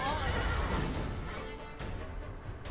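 A horse neighs close and loud in The Witcher 3: Wild Hunt, a brief whinny heard against game sound and voices.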